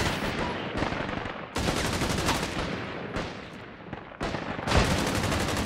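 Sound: bots shooting guns in video game Caliber

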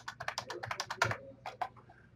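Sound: typing a password on a computer keyboard

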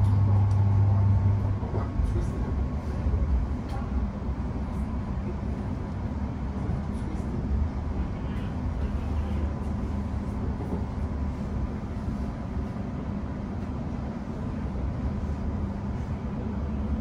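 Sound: London Overground train running to Enfield Town

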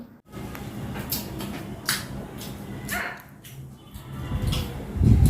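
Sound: dog under the table

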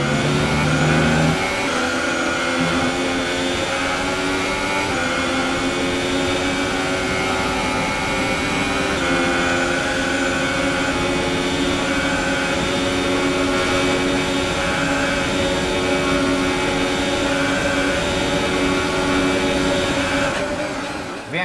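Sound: Formula 1 car engines racing in F1 2018 video game

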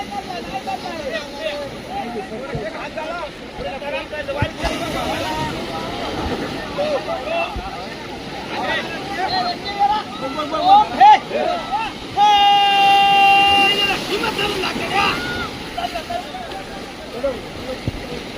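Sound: crowd hauling a boat up by hand

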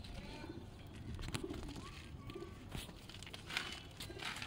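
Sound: pigeons cooing

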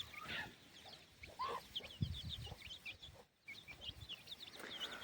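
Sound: village hen with chicks clucking

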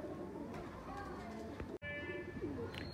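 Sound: pigeon cooing

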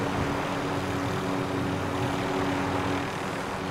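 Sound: helicopter flying in a video game

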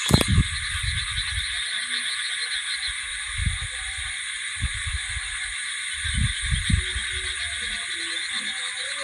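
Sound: crickets chirping at night

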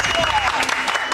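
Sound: studio audience applause

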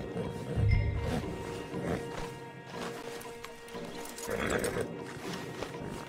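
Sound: stallion horses in video game Red Dead Redemption 2

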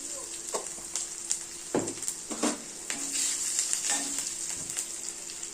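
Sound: whole cumin sizzling in oil

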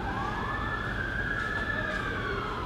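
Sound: emergency vehicle siren

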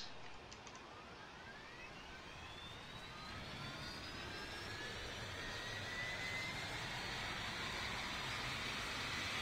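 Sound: A321LR jet engines starting up in Roblox Aeronautica, video game

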